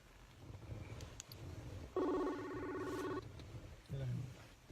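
An outgoing phone call rings out faintly, a short patterned electronic ringback tone heard twice amid low background murmur, with a voice speaking briefly between.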